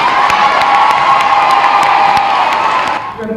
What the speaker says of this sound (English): a really big round of applause for Sydney